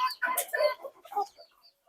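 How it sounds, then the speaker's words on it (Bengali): Desi chickens cluck as they come in to feed on a small farm: several short, close clucks in an uneven rhythm with short pauses between. "দেখতে পাচ্ছেন মুরগি আইসা বসে এখানে খাওয়ার জন্য"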